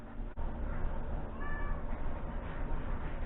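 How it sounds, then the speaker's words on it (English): A cat shut in a dog kennel meows loudly and insistently, a drawn-out holler standing out close over steady room noise, with no talking. "You hear a cat hollering, it's because he is in kitty jail"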